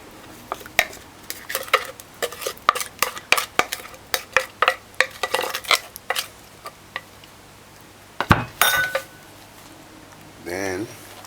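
Banana bread batter is worked into flour in a bowl, giving a run of sharp, irregular clinks and scrapes from a utensil against the bowl, with brief quiet pauses and a short voice near the end.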